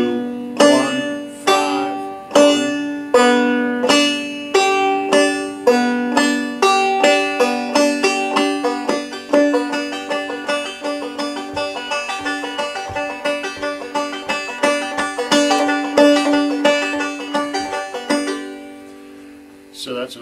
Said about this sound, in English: It's another way of making a very smooth sound playing Clawhammer banjo